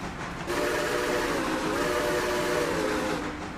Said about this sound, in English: Well, that sounds like a big train.